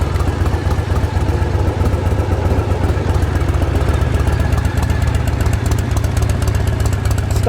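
A 1979 Harley-Davidson FLH Shovelhead with stock pipes and slightly adjusted baffles idles close by, a steady loud lumpy low thump that continues evenly with no pauses.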